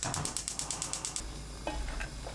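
Food sizzles and crackles steadily in a hot pan, with a quick run of rhythmic scraping taps from stirring at the start.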